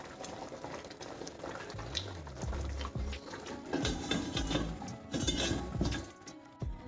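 Chicken curry with potatoes simmers in a lidded pot, giving a quiet, uneven bubbling with soft low thumps and a few faint clinks.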